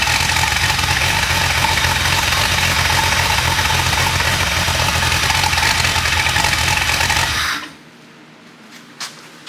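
Diesel engine idling unevenly and hesitantly, a loud, steady, close rumble that cuts off sharply near the end, leaving near silence and a couple of faint knocks.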